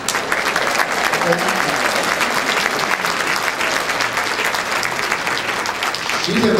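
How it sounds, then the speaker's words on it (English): Steady, loud audience applause fills the room at a gala honoring a Lifetime Achievement Award recipient, dense clapping sustained throughout with a faint crowd murmur beneath. "give her an applause"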